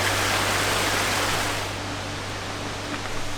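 Waterfall in the Albanian backcountry, heard as a steady broadband rush of falling water that stays loud and continuous throughout, easing slightly toward the end with no voices.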